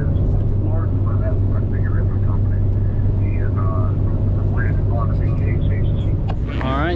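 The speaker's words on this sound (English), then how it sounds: "I'm going to get right into the driving" Interior of a moving car: a constant low road and engine drone runs throughout at steady volume, with faint chirps and higher sounds in the background.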